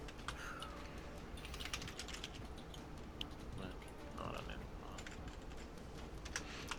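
Typing on a computer keyboard, rapid uneven bursts of light key clicks running steadily at a moderate distance, with people talking quietly underneath.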